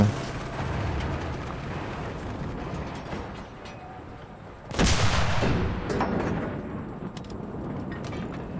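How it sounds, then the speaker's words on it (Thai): A single loud gunshot bursts out midway with a long fading echo, set against a quieter mechanical clatter and rumble before and after it. "ยิงเพื่อเปลี่ยนกระสุน"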